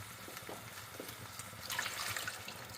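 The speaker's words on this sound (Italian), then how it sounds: "quindi la vado ad allungare con un bicchiere di acqua più o meno" A glass of water is poured into thick tomato passata in a pot while cooking Italian braciole. It makes a soft, steady splashing trickle that swells near the end, with no talking.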